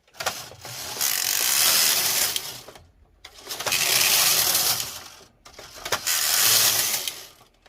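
A Brother knitting machine carriage sliding across the needle bed on a lace row, three loud rasping ratchety passes with brief quiet gaps and clicks between them.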